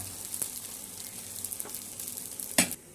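Food fries in a pan, with a soft continuous sizzle broken by scattered crackles and one sharp spattering burst near the end, close by and without talk.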